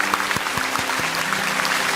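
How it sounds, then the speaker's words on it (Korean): A church congregation at an autumn special dawn revival service claps steadily to encourage the church staff, a dense continuous applause with a low rhythmic thump running underneath. "교역자들 힘내시라고 한번 우리 교역자들을 축복하시면서 박수로 격려해 주시면 감사하겠습니다"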